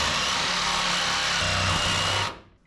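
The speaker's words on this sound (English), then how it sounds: "I think I need a new Sawzall blade" A battery-powered Sawzall reciprocating saw cuts through the floor pan of a 1967 Mustang, a loud, close buzzing rasp that runs steadily and then cuts off abruptly near the end.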